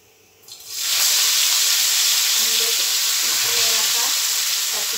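Oil poured into a hot pan erupts into loud, steady sizzling and hissing after a quiet start, continuing close and even to the end.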